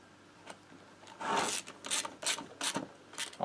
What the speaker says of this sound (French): je vais commencer par serrer le boulon du bas déjà